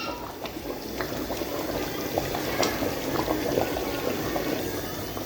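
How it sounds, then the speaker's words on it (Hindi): Beef dagi korma simmers in a pot on the stove with a soft, steady bubbling and occasional small pops, close and continuous, with no talking. "देखिए फ्रेंड्स, हमारा कोरमा पक के तैयार होने वाला है।"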